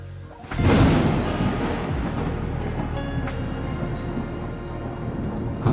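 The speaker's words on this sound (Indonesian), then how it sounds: "tidak kuduga hujan. Aduh, hujan." Heavy rain pours down steadily and close during a motorbike ride through a rural district, a dense constant hiss with a sharp thunder-like crack near the start, and no voices.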